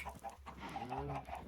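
Chickens clucking in the Minecraft video game, a quick series of soft, close clucks and short warbling calls over a low background hum.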